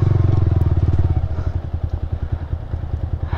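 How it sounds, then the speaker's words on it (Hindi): A motorcycle is ridden across a bridge near a remote Himalayan village, its engine a loud, rhythmic chugging with steady pulsing thumps close by and no talk. "अच्छा यहाँ से बाइक पार करना है"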